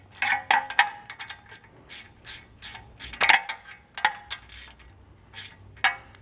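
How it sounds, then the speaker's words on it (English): A 13 mm socket turned by hand snugs control arm bolts on a 2003-2014 Volvo XC90, giving a run of quick metallic ratchet clicks in short irregular bursts, close and fairly quiet. "We're gonna go ahead and start snugging these up by hand."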